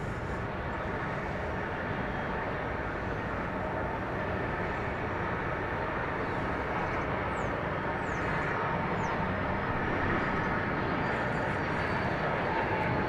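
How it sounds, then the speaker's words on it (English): A 33-year-old Boeing 757 airliner at DFW Airport, a loud, continuous broadband jet roar that stays steady and dense throughout without pause. "33-year-old 757 celebrating its 33rd birthday this month."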